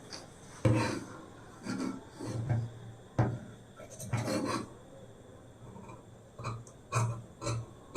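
Scissors cut through blouse lining fabric in a series of crisp, rasping snips, each burst followed by a short pause, close to the listener.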